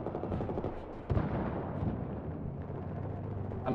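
A shorty shotgun fires in a video game amid dense, loud gunfire, with a sharp blast standing out over the continuous rumble of battle.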